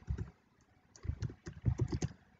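Code being typed on a computer keyboard, a close run of quick clicky keystrokes in short bursts with brief pauses between them.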